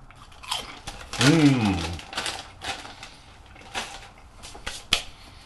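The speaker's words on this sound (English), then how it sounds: "I got my iced tea, my ketchup chips, so you can watch me eat and crinkle the bag." Crunchy ketchup-flavoured potato chips being eaten from a crinkly bag, close and loud, with a burst of bag crinkling and chewing crunches followed by scattered softer bites and rustles, and a voice briefly heard.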